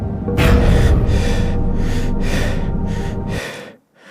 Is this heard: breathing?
yes